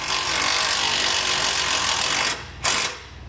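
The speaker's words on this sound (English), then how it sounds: "take that same bolt, get it started, and we can tighten it down" A bracket bolt being tightened during an Air Lift LoadLifter 5000 helper spring install, with steady close rasping tool noise for about two seconds, then a short pause and a brief final burst.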